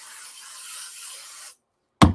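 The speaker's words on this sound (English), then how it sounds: "I'm going to cheat with some 505 spray. It is a temporary adhesive." 505 temporary adhesive aerosol sprayed in one continuous hissing burst of about a second and a half, close and fairly loud, then silence before a brief low thump.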